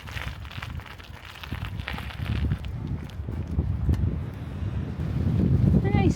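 Strong wind gusting across the microphone outdoors at Osterbybruck in snowy May weather, a steady low rumble that swells louder toward the end, with a person talking over it.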